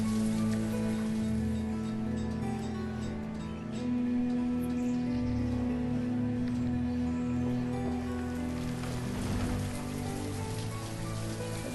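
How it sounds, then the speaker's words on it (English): Steady rain from the city-building game Banished pours without a break, with a continuous hiss of drops mixed with low tonal game music and no voices. "It's a rainy summer, I tell you."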